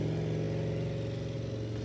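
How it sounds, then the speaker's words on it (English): A Mule utility vehicle zips around in the background, its mid-pitched engine humming steadily with slight revving throughout, at a fairly constant level with no talk. "you can hear my girls zipping around on the mule in the background"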